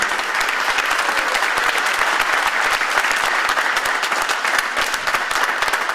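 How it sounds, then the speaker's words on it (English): A final round of audience applause at a Springfield mayoral candidate forum: a steady, full wash of many people clapping, sustained evenly for six seconds without any speech over it. "I'd like to have one final round of applause in case some people leave"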